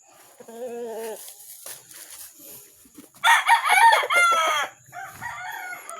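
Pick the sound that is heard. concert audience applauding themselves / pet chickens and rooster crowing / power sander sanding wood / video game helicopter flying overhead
pet chickens and rooster crowing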